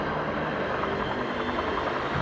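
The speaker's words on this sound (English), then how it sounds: "All right, get some choppers going." Helicopters in the Resident Evil: Infinite Darkness trailer, a loud, steady, dense rotor-and-engine roar that fills the whole stretch without pause.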